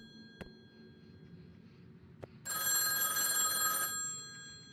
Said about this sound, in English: Where is the phone?